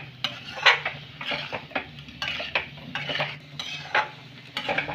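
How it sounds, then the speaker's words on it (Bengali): Spices and potatoes for aloo jeera are stirred while frying in a pan over medium heat, repeated spatula scrapes and metallic clinks in an uneven rhythm above a quiet sizzle. "সব মশলাগুলোকে আবার আমি 2 থেকে 3 মিনিটের মতন ভেজে নেব ওই মিডিয়াম"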